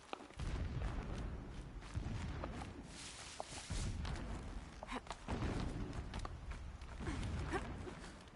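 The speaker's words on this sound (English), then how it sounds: "Explosions in the distance." Distant explosions rumble in the video game Horizon Zero Dawn as low, muffled booms and thuds repeating irregularly over a faint, busy background.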